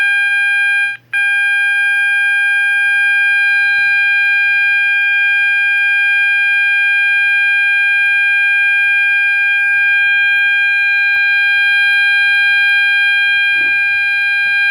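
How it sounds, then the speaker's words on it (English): A Gentex GOS fire alarm horn with strobe sounds during a test, a steady, loud electronic tone held nearly continuously, with one brief dropout near the start and faint background noise. "Let's get on with the testing and the horn and strobe together of this Gentex GOS"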